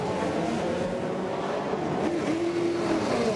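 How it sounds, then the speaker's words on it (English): IndyCar race cars pull away from pit lane at Homestead during a 2005 race, engines droning loudly and steadily as they accelerate, with rising pitch sweeps from nearby cars over a busy racing backdrop. "and now both cars are off for Team Penske."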